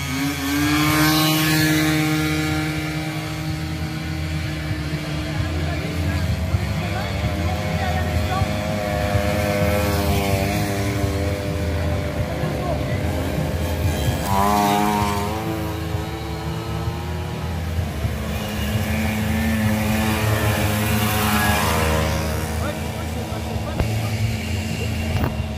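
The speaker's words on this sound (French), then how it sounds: "C'est une turbine." A turbine engine running hard, a loud continuous whine and roar with shifting tones that rises and falls, close up, with people talking over it.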